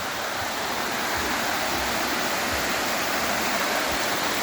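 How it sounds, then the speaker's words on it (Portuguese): Waterfall pouring into a river stream on a forest trail toward a small beach, a steady, loud broadband rush of falling water with no pauses and no voices. "E aqui vai cachoeira fora."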